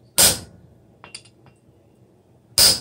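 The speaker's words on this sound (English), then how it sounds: "We're just going to keep hammering that on through." Two loud, sharp metallic strikes of a blacksmith's hammer on a steel bar about two seconds apart, with a few faint clinks in between and no voices.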